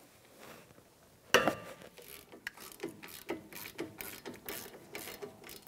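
A ratchet wrench with a 17 mm socket breaks loose a front brake caliper slider bolt on a 2011-2019 Ford Explorer. After a quiet start comes a sharp crack, then a run of steady, rapid ratchet clicks, close and fairly loud, with no talking.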